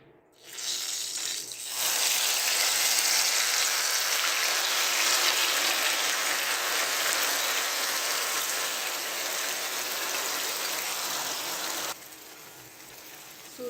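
Soaked semolina goes into hot caramelised sugar syrup in a pan, setting off a loud, steady, close hiss and sizzle. It holds for about ten seconds, then drops off abruptly near the end, with no talking.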